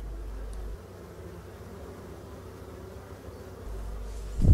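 Black honeybees hum around a row of breeding-selection hives, a faint, steady, low buzz that holds for several seconds before a brief louder bump at the end.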